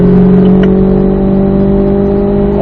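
A car on a driving course pulls hard in fourth gear after an upshift, its engine holding a loud, steady, close drone with a faint clatter near the start and no talking.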